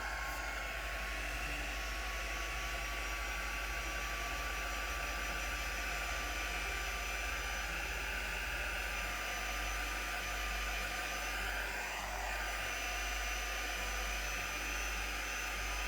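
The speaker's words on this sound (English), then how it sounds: "let's just give it a bit more encouragement with the heat gun" Heat gun blowing hot air over craft card, a steady, loud whooshing hum with a faint whine that holds constant from start to finish.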